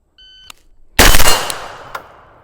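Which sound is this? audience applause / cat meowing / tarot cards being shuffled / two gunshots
two gunshots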